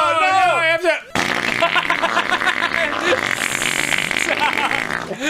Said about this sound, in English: That's the fart noise I haven't heard, like, since childhood.